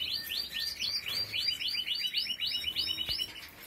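Pet birds and nestling chicks chirping together in rapid, repeated high tweets, a dense run of calls close by that fills the short stretch.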